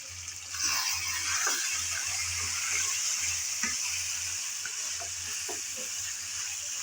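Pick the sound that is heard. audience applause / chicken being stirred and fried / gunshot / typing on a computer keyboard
chicken being stirred and fried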